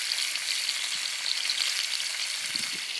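Close, steady sizzling of bacon and sausages frying in a pan over a camp stove burner at a Dartmoor wild camp, a continuous crackling hiss with a faint clink near the end.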